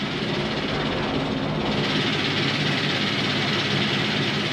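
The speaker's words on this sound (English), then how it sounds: "something really important inside of the engine broke" Steady, dense roar of a race truck engine at the 2010 Too Tough To Tame 200, a continuous broad mechanical drone that holds loud and unbroken without any talk.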